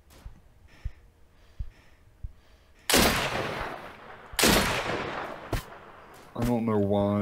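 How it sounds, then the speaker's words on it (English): Gunfire in the video game Deadside: several distant, faint shots pop early on, then two loud, close bursts ring out and decay, a further sharp crack follows, and a voice breathes or speaks briefly at the end. "It's probably them shooting at me."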